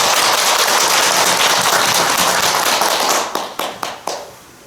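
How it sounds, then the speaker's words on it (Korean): A temple audience at a Buddhist dharma talk claps steadily and densely, then the applause thins into a few last separate claps before fading out. "박수 한번 해주세요."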